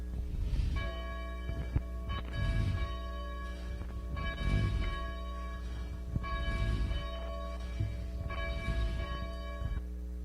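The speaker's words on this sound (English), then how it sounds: "as the bells call us to worship" Church bells ring out to call worshippers, loud and resonant, struck repeatedly in a steady rhythm with long overlapping ringing tones throughout.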